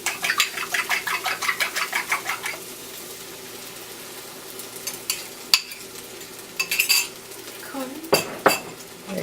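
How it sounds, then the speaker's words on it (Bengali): Egg, milk, salt and pepper being stirred and scrambled with butter, red pepper and onion in a pan: rhythmic utensil scrapes and clinks against the pan over a faint sizzle, then scattered knocks, close with no talk. "এখন বেশ ভালো মতো নেড়ে চেড়ে এটাকে স্ক্র্যাম্বল করে নিবে"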